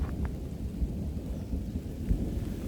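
Thunder rumbling over a rural weekend farm plot: a continuous low, heavy roll at moderate loudness with a faint rain-like hiss, no speech.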